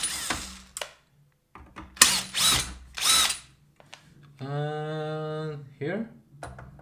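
Power screwdriver whirring as it backs screws out of a Bang & Olufsen Beomaster 8000 receiver, a steady rising motor whine lasting a couple of seconds, with someone talking before it.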